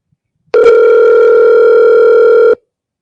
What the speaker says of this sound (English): Who are you calling, Stuart?